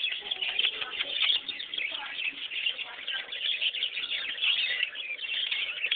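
Cockatiel chirping and warbling steadily, a dense run of bright high calls that carries on without a break.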